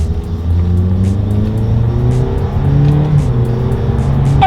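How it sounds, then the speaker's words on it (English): 2019 Toyota Corolla with a CVT accelerating on paddle shifters, the engine droning up in rising steps as shifts come in, loud and close with a steady road rush beneath. "let's do a quick little acceleration in the 2019 Corolla and test out the paddle shifters as well"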